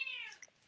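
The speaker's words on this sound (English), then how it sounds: "That's a cat on the podcast." A cat meows once, a short faint descending call, followed by a few soft small noises in a quiet room.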